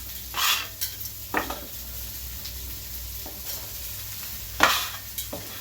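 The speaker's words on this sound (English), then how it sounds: "We're going to stir fry this just for a few seconds." White parts of bok choy stir-fried in a wok, giving a steady background sizzle broken by a few sharp scrapes and clanks of the utensil against the pan.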